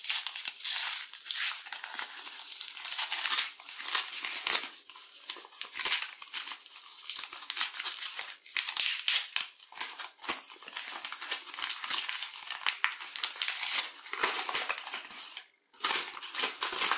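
Booklets of 24-carat gold paper being opened, with steady crinkling and crumpling of thin paper close to the microphone, continuous and busy with sharper rustles scattered throughout, and no talking.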